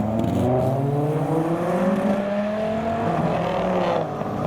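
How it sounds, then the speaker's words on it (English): A Dodge Viper GTS Final Edition pulls in at a busy car meet, its engine a steady, fairly close drone with gently rising and falling tones and no voices over it. "we have a Dodge Viper GTS Final Edition also arriving"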